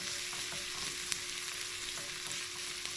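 Onions with salt and ginger garlic paste fry in a pan, giving a soft, steady sizzle with a few faint scrapes of stirring, quiet and close.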